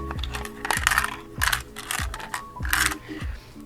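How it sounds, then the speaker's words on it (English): Loose parts rattle and clatter inside a 1989 Double Dragon handheld game by Tiger as it is shaken, in several bursts of clicking with short pauses, close and fairly loud. "What do you think is currently rattling around inside this Double Dragon?"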